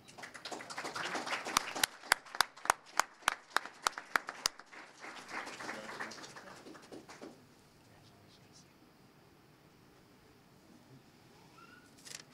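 A handful of individual claps ring out in a sparse, evenly spaced run at a library educators' showcase, a few people clapping close by over a murmuring room that fades to near quiet.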